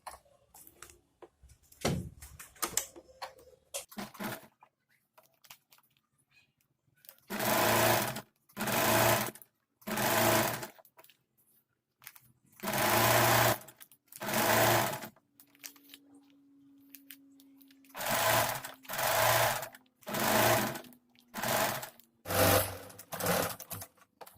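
A sewing machine stitches a 2-inch strip onto a palazzo, running in about nine close, loud bursts of rapid whirring separated by short pauses and quiet handling of fabric.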